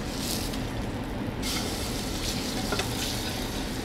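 A salmon fillet sizzles loudly and steadily in a hot pan just after being flipped, a close, continuous crackling hiss with a brief surge near the start.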